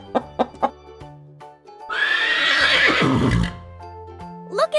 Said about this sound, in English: Look at this strong and fast animal, a horse.